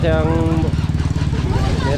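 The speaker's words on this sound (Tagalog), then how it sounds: "ako nga pala kumuha ng motor oh" Motorcycle engine idling close by with a steady low throbbing pulse, someone talking over it throughout.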